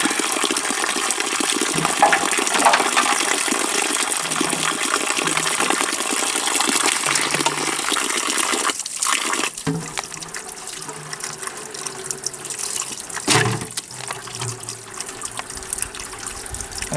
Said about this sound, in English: You just let it flow, and then now I've got all natural spring water right out of the ground going here